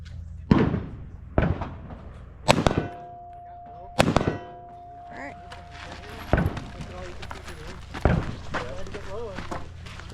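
Rifle and pistol shots at a Black Hawk Down anniversary practical shooting match in Tucson ring out as sharp, loud cracks spaced a second or two apart, with a steel target clang, footsteps and someone talking between shots.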